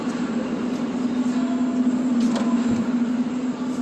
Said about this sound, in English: I'm gonna let you guys listen to the sound the car is making